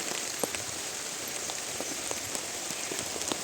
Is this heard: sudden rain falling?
yes